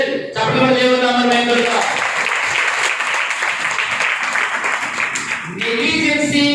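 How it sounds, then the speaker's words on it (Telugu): A church congregation applauds loudly during a sermon, a dense, steady wash of clapping lasting several seconds, with a preacher's voice heard briefly before and after. "చప్పట్లు దేవునామమున"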